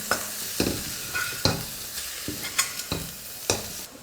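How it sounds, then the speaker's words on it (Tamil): Egg masala being lightly stirred in a frying pan, a spatula scraping the pan in about seven separate strokes over a soft sizzle, close and fairly loud, with no talking. "பாருங்கள் ஃப்ரெண்ட்ஸ், முட்டையை சேர்த்து சும்மா லைட்டாக கலந்து கொடுத்துட்டேன்"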